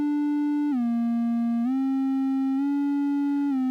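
A triangle-wave synthesizer step sequencer sounds a steady, pure tone that steps between a few pitches at slow quarter- or half-note intervals, clear and alone.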